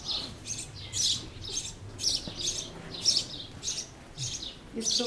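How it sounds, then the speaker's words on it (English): Birds sing in a garden in Skardu in the Karakoram mountains, bright chirping phrases repeating about every half second in a steady rhythm, moderately close over a soft outdoor background. "Skardu bird song."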